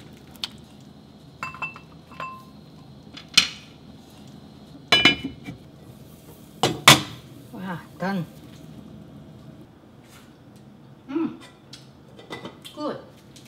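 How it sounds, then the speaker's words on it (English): A spoon stirs Korean curry in a pot, making intermittent clinks, knocks and scrapes against the metal, spaced irregularly with quiet gaps, and some talk in the background. "Stir this so that it's not going to burn bottom."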